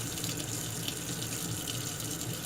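Hot soapy water running steadily from a tap while a Remington 1858 revolver is washed, a continuous close hiss and splash that stays even throughout, with no talking.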